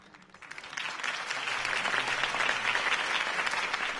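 Crowd applause following Harvey Dent's campaign speech in a Batman video game: clapping swells in over the first second from quiet into a full, dense ovation from a large audience that holds steady to the end.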